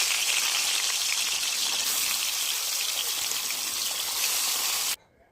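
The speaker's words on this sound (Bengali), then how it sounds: "কড়াতে তেল দিয়ে দিয়েছি, তেল গরম হয়ে গেছে। এবার আমি মাছগুলো ছেড়ে দেবো।" Pona fish pieces fry in hot oil in a kadai, a loud, steady, close sizzling hiss that keeps up evenly for about five seconds and then cuts off abruptly.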